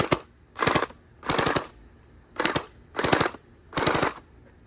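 Six short bursts of rapid full-auto firing from an AC5000 RC airsoft-style gun with a rough-sounding motor, each rattling volley about half a second long with brief pauses between, close and loud with no talk.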